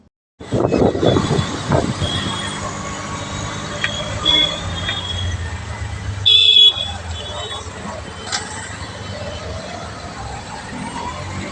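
A train pulling away, with a low rumble of rail cars and a brief horn toot, loud and steady and heard from close by.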